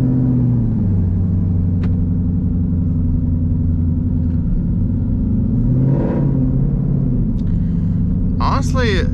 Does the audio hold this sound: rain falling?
no